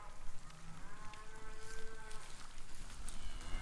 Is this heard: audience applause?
no